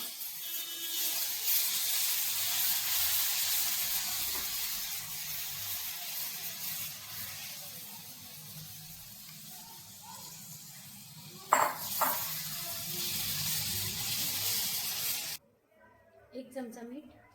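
Tomato paste hits a hot pan of oil and spices for a tomato chutney, giving a steady hissing sizzle that runs for most of the stretch, with a brief clatter near the end before it cuts off.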